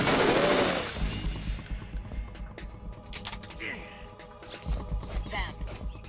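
Game gunfire from Metal Gear Solid 2: Sons of Liberty, with bursts of shots and metallic clatter running through a cutscene, mixed under ongoing speech and music at fairly steady loudness.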